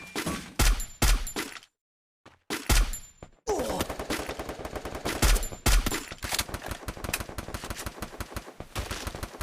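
Loud bursts of rapid gunfire from a shooting video game, fired in several volleys with a short silent gap, then dense continuous shooting to the end.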